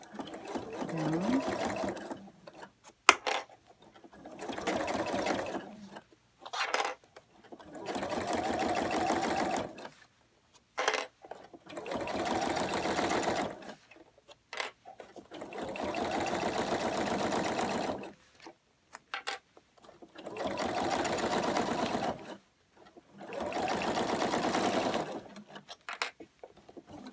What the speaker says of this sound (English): And now just stitching